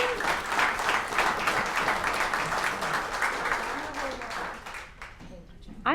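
A Pachyderm Club audience gives a speaker a warm welcome with sustained, even applause from a roomful of hands that fades toward the end, and a voice begins to speak right after.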